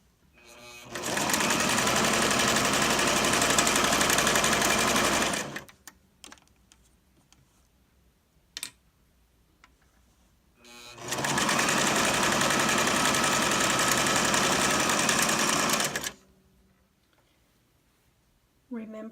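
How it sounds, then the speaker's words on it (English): A sewing machine stitches through three layers of fabric, one of them thick batting, with a long stitch length. It runs in two loud, steady bursts of about five seconds each, separated by quiet handling noises. "Since I'm stitching over 3 layers of fabric and one is some pretty thick batting, I've decided to increase my stitch size to almost 3."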